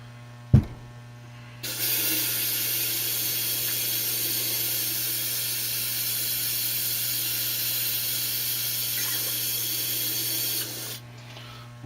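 A spray gun sprays lacquer thinner through its cup. A sharp click comes first, then a steady loud hiss lasts about nine seconds over a low mains hum and stops abruptly.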